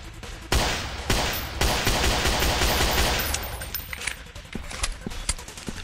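Guns fire in the hunting video game Dinosaur Hunter Africa, opening with sharp shots followed by a dense, rattling burst that gradually thins, loud and close with no talk.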